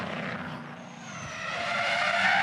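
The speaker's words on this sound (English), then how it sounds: "He had the brakes fully locked." A V8 SuperUte race car with its brakes fully locked skids with a rising, hissing tire squeal that grows louder toward the end, heard alone from a distance.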